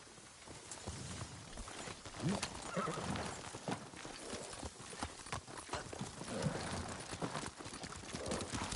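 Horses clip-clop steadily at a walking pace on a ride near a cemetery with a waterfall view, one whinnying partway through, with busy outdoor ambience throughout.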